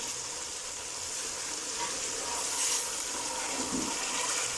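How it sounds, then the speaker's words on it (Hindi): A cup of water poured into a pan of cooking potatoes and spinach for aloo palak, giving a continuous hissing sizzle and rushing wash close by, steady throughout without speech. "अभी इसमें 1 कप पानी ऐड कर देंगे।"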